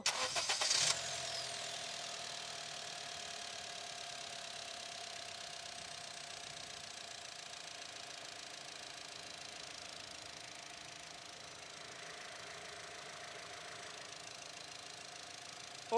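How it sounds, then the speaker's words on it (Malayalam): A Honda Amaze car engine cranks and catches, then settles into a steady, even idle hum that continues without interruption, close by. "ഇനി അടുത്ത കാര്യം നമുക്ക് ഈ ഒരു വണ്ടി ഒന്ന് സ്റ്റാർട്ട് ചെയ്ത് നോക്കണം"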